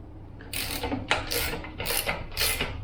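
Socket ratchet turning a cylinder head bolt on a Chrysler V8, a close series of four rapid clicking bursts with short pauses between each stroke.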